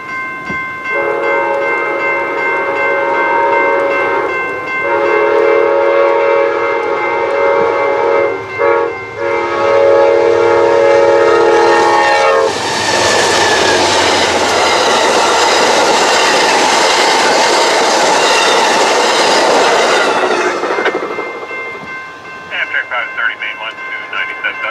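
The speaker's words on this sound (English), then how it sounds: "we see another day's California Zephyr traveling west through the crossing" Westbound Amtrak California Zephyr passenger train with ALC-42 diesels crossing a level crossing in Ottumwa, Iowa: a loud sustained horn and crossing bells, then a close roaring rush of rail cars and wheel noise that fades near the end.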